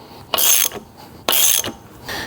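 A ratchet wrench tightening a bolt on a 351 Windsor engine build, three close, loud bursts of rapid clicking, each about a third of a second long and separated by short pauses, with no talk.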